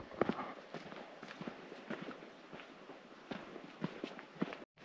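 A train of bell-wearing pack donkeys walks a dusty mountain trail between Lukla and Namche Bazaar on the Everest Base Camp trek, with steady, uneven hoof clops and shuffling steps that stay fairly close and continuous throughout.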